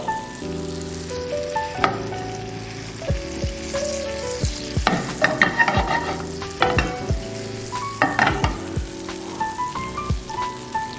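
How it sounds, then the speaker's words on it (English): Butter melting and sizzling in a hot pan for bangers and mash, a steady frying crackle broken by sharp clinks and scrapes of a utensil against the pan, close and fairly loud, with no talk. "Then using a knob of butter, make sure you melt your butter."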